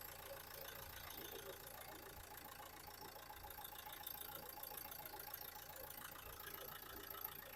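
The diesel engine of a 2014 Nissan Terrano RXZ idles quietly with an even, low, slightly knocking drone, while a voice talks faintly over it.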